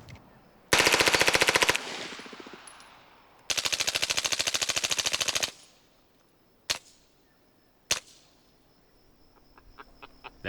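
Suppressed H&K gunfire: two long, rapid automatic bursts, then two single sharp shots, loud and close with quiet gaps and a short tinny ringing tail, no voices.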